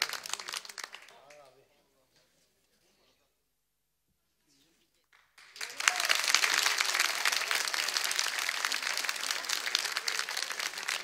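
Chairman Murat İlter is welcomed at a Tokat-themed event: a voice talks briefly, then a few seconds of near silence, then loud, dense audience applause swells in and continues steadily to the end.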